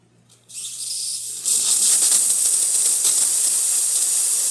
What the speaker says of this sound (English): Now we are going to quickly test the steam function.